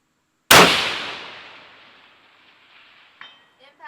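A single loud rifle shot from a 6 ARC rifle, a sharp crack followed by a long fading echo, with a faint metallic clink and brief voices near the end.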